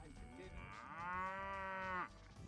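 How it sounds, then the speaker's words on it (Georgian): A cow on a Nebraska cattle ranch gives one long, close, resonant moo, rising in pitch and then cutting off sharply, with no other sound around it. "ნახე რა ლამაზი ძროხაა"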